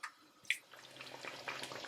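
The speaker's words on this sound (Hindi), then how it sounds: "अब इसमें डाल दें 1 कप जितना पानी" Water poured into chicken karahi in a pan, a brief splash and hiss followed by a steady soft bubbling and trickling, close and fairly quiet, with no talk.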